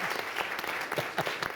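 A conference audience at a humanitarian summit gives a round of applause for a panel speaker, a brief, moderately quiet burst of clapping from a small crowd with a few individually distinct claps.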